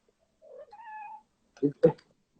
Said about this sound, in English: Cat talking.